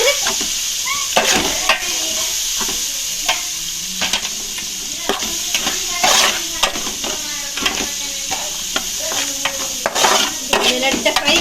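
Chopped onions fry in a pan, giving a steady close sizzle broken by frequent scraping and clinking as a utensil stirs them against the metal.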